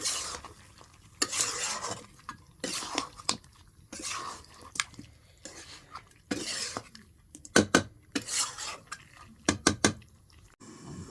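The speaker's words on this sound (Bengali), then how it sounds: "একটু নেড়ে চেড়ে দিই নাহলে আবার লেগে যাবে" Food in a pot over a clay wood-fired stove stirred in repeated short bursts of scraping and clanking against the pot, separated by brief quiet gaps, with a faint sizzle underneath.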